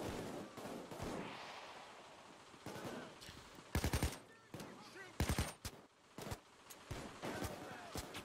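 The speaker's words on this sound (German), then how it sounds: "Ich werde beschossen" Bursts of machine gun fire ring out in the video game Payday 2, sharp rapid volleys mixed with single gunshots, loud and close, over a busy background of game noise.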